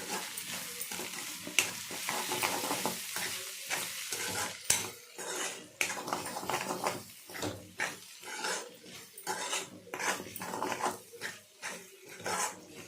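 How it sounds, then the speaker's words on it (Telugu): An ivy gourd curry with garam masala is stirred in a pan, with a frying sizzle under repeated scraping and clinking of a spoon against metal, close and steady. "అది వేసుకునండి ఒకసారి అంతా బాగా కలుపుకోండి"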